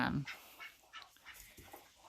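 An Ancona drake duck gives a few soft, raspy quacks at a distance, spaced irregularly over two seconds against faint outdoor background.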